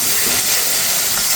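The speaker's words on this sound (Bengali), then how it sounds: "সম্পূর্ণ মশলা দিয়ে খুব সুন্দর করে কষিয়ে নিচ্ছি।" Whole spices, turmeric and chili powder fry in a pan for a fish curry, making a loud, continuous sizzling hiss up close with no voices.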